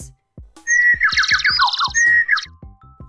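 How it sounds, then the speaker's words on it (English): Bird chirps and squawky whistles in a quick, loud series of rising and falling notes, close by, with soft clicking underneath; no one speaks. "A bird chirps."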